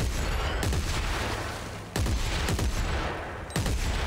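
Loud, close gunfire from the video game Dead Space 3 as an enemy is shot, heard as dense bursts of shots and booms with sharp onsets near 0.6, 2 and 3.6 seconds, with no talk.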